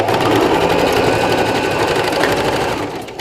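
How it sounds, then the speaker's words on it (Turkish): A sewing machine runs steadily as it stitches elastic onto a dress sleeve, giving a loud, continuous, fast mechanical whir that slows and stops at the end. "Bir dikiş atıyorum."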